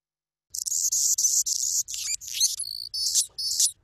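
Wild birdsong made of broadband buzzy phrases alternating with dainty, high, thin little notes, delivered as a quick run of repeated bursts lasting a few seconds, clear and alone with no other sounds.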